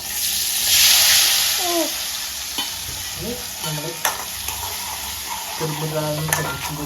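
Food frying in coconut oil in a home kitchen, a soft steady sizzle with scraping stirs and clinks of a utensil, a few voices talking over it.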